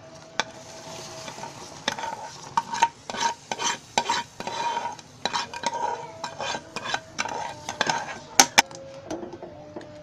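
A spoon scrapes and knocks against a pot in an irregular rhythm while barnyard millet rice is stirred in simmering milk, close and clear.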